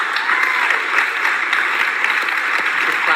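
An audience at a design festival applauds a panel, a dense, even round of clapping that holds steady from start to finish without talk over it.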